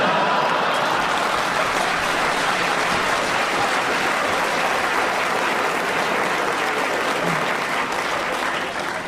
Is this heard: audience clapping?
yes